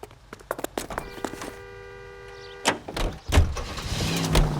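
Car door opening and closing as a character climbs into a 1940s car in the Los Angeles crime game L.A. Noire, with footsteps and clunks, a brief musical chime, then the engine starting and idling up close.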